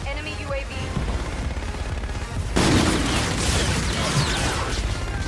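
Gunfire in the shooter Call of Duty: Infinite Warfare, a dense run of shots that grows sharply louder partway through and keeps on as a heavy, steady volley close by.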